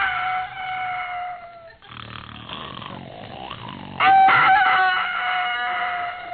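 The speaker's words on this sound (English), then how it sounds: "The rooster is crowing." A rooster crows loudly on a farm at dawn with a long harmonic call, a rougher muffled stretch follows, then a second strong crow rings out, with no talk over it.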